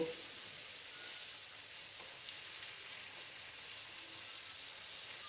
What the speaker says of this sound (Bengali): একবার রোল রোল করে ভাজতেছি